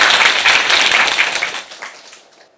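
Loud, close applause from a lecture audience, a dense burst of many hands clapping that thins out and fades away over the last second.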